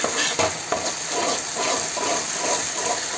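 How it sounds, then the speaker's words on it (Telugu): Ginger garlic paste fries in a pan with a steady sizzle, a few louder scrapes and stirs breaking through the continuous hiss. "ఈ అల్లం వెల్లుల్లిపాయ పేస్ట్ కూడా చక్కగా ఒక రెండు నిమిషాలు ద్వారగా వేగనివ్వాలండి"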